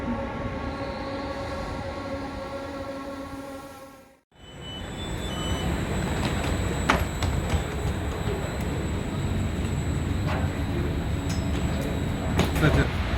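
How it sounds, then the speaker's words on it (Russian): A passenger train pulls into a station platform on a line heading to Civitavecchia, Italy, its steady rumble and rolling wheel noise filling the scene after a brief pause, with faint metallic squeals near the end. "И вот подъезжает наш поезд, на котором мы доедем до Чивитавеккьи."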